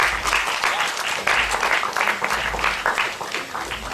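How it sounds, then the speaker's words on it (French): Audience at a festival show claps steadily in a dense, continuous round of applause, moderately loud, close and without talk over it. "J'aimerais réentendre cet applaudissement"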